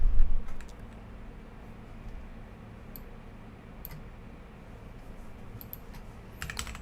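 Keys clatter on a computer keyboard in scattered quick bursts of light clicks, close by over a low background hum.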